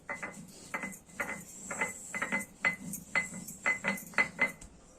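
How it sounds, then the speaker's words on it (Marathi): Cumin seeds being ground by hand on a traditional stone grinding slab: a steady run of short, scraping-knock strokes with faint clinks, about a dozen in quick rhythm, close and moderately quiet with no talking. "जिरा हा आता पाट्यावर वाटून घेतो ना"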